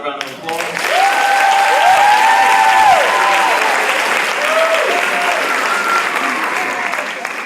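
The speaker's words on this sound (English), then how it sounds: "Can we please give our graduates another round of applause?" Sustained applause from a large audience honoring graduates at a high school graduation ceremony, steady and full for several seconds, with faint voices and a few whistles riding over it.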